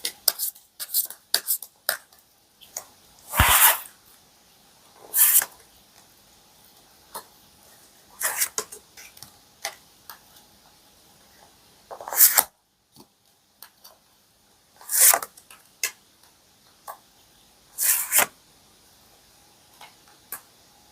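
Tarot cards being shuffled and drawn: a string of crisp, close ticks and snaps comes in irregular bursts, separated by quiet pauses, with no voice.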